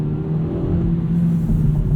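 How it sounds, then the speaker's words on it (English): A 2018 Hyundai Elantra GT Sport with a six-speed manual drones steadily at high revs while downshifting, a low continuous engine rumble heard from inside the cabin with no talk. "the engine is just a little bit droney when you're downshifting at high revs"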